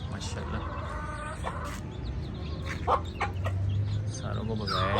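Hens cluck softly and intermittently in a backyard coop shared with pigeons and young chicks, under steady low background noise with faint bird calls mixed in.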